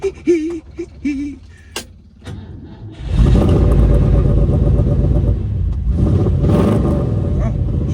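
After someone speaks briefly, a motorcycle engine cranks, fires up and runs loud and close, settling into a steady rumbling idle with a few throttle blips.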